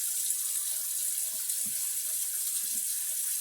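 Hot water running steadily from a kitchen faucet while cookies are being made, a constant soft hiss with faint splashing underneath, no talking.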